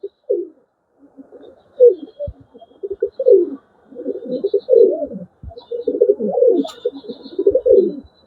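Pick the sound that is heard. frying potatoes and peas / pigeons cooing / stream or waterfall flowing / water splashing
pigeons cooing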